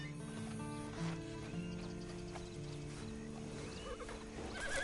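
A horse in the video game Red Dead Redemption 2, with hooves clip-clopping and a brief whinny set against a steady bed of game music, without speech.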